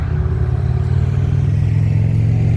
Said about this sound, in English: Motorbike, hang on.